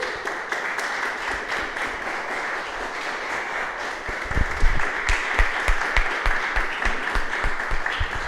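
A church congregation applauds steadily during a Spanish-language sermon, a dense crowd clapping that grows louder and more distinct toward the end.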